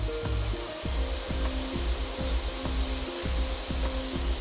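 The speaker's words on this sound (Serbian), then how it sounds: "sada ću iseckati na pola čeri paradajz" A kitchen knife halves cherry tomatoes on a cutting board, producing steady, evenly spaced thuds, close and clear, about two to three chops per second with no talking.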